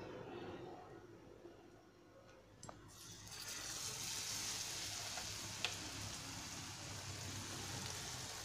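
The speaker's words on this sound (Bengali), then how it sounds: "এগুলো একদম গরম তেলেই ভাজবো" Aloo chop, battered boiled-potato fritters, dropped into hot oil and frying with a steady sizzle that swells after a couple of sharp splashes and keeps bubbling, close by.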